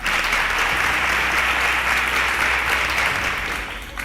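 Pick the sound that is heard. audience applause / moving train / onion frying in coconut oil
audience applause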